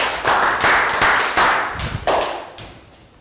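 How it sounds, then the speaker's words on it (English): A small class of young students gives a short round of applause, a few bursts of clapping and tapping that are close and fairly loud, then fade out within a few seconds. "Round of applause for Nadia."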